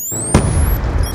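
A grenade blast in Call of Duty Black Ops 2 erupts as one loud, close boom and then rumbles on. High whining tones of game effects sweep behind it.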